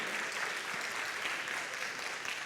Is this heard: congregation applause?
yes